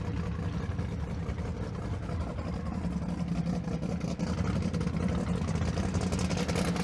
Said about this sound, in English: That is the sound of race cars